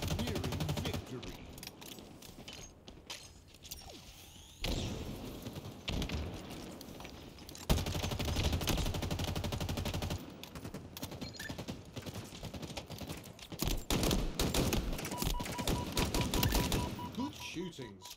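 Steady rapid gunfire during a Halo Infinite Team Slayer match, fast rattling shots running almost continuously at moderate loudness, with brief pauses and occasional voices under the shooting.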